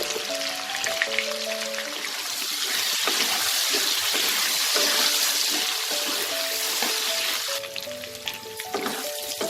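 Potato pieces sizzle and fry in oil in a pan, a continuous crackling hiss that swells and eases for several seconds, with faint clinks in the background.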